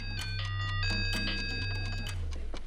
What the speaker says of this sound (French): Mon téléphone, il sonne en continu.